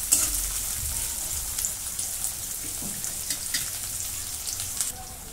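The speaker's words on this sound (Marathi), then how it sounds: "कांदा चांगला भाजून घेते." Onion frying in hot oil in a pan produces a steady, close hiss and crackle, with occasional soft stirring scrapes and no one talking.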